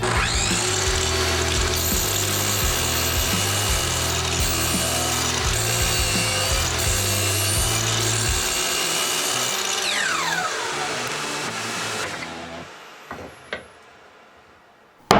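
A miter saw cuts wood boards to 30 cm, its motor whining steadily through repeated cuts before spinning down, followed by a few knocks of wood being handled.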